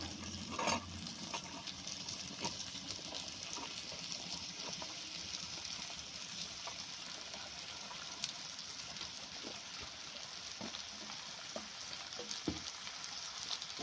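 Ridge gourd (torai) pieces stirred into spice masala in a pan, giving a steady close sizzle and frying hiss throughout with occasional spoon scrapes and clicks.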